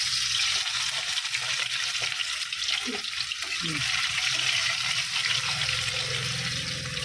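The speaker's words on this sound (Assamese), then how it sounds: "এতিয়া গোটেইখিনি ভাজিম, অলপ অলপকৈ ভাজিম এতিয়া" Brinjal slices frying in a small amount of oil for a crispy restaurant-style fry, a steady broadband sizzle with faint water-like hiss continuing throughout, close and fairly even.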